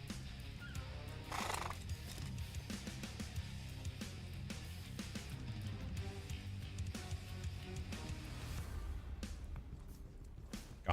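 A Gondor Steed horse from a video game whinnies and neighs loudly, mixed with clip-clop hoof sounds and other game effects, with no talking.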